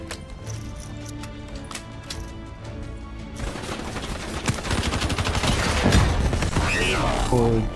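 Black Ops 3 video game gunfire with an ICR-1 rifle: rapid bursts of shots that grow louder and denser midway, crackling over busy in-game sound.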